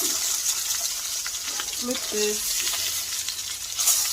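Crispy-skinned salmon frying in a pan, a steady close sizzle and crackle that runs throughout, with a few faint tones and light background noise.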